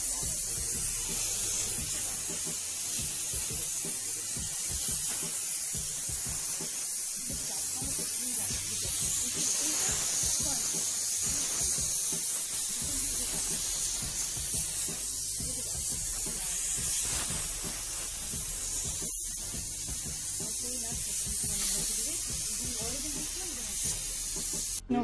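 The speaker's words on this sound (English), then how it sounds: "You can just do only with a steamer." A handheld steamer machine cleaning a gas range cooktop, giving a steady, continuous loud hiss of steam that runs unbroken for the whole stretch with no talking over it.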